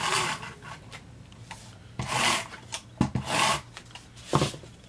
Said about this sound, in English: I'm again going to run adhesive on the back here.